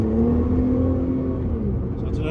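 A Nissan GT-R R35 with a GR6 transmission accelerates hard mid-turn, its engine drone loud and close with a steady low tone that slowly sags in pitch, and no talking.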